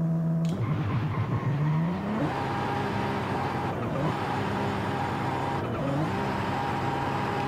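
A turbocharged 1150 hp Toyota Soarer in Forza Horizon 5 revs hard, its engine note climbing through gear changes with a loud, close, continuous roar and brief dips between shifts.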